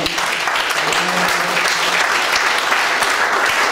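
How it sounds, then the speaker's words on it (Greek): A crowd at a mayoral candidate's campaign speech in Chora, Andros, applauds loudly and continuously in a dense, close wash of clapping, with brief voices mixed in. "θέλει να του δώσει ένα χειροκρότημα"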